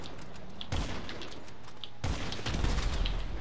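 Gunfire in the video game GTA V crackles in sharp bursts of rapid shots, with one volley and then a heavier, louder barrage a moment later against a steady background hum.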